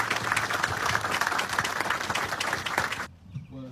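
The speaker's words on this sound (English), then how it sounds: "please give her a round of applause for the beautiful national anthem" An audience at a retirement ceremony applauds the national anthem singer, loud, dense clapping that stops abruptly near the end, followed by a brief voice.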